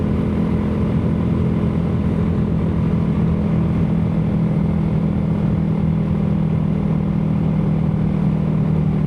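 Royal Enfield Himalayan 450 motorcycle cruising at about 65 mph with the engine just above 5,000 RPM, a steady loud drone with wind rush that holds constant throughout, no voices.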